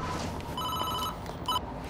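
A telephone rings with electronic trilling bursts, one long ring followed by a short one, over a steady background hum.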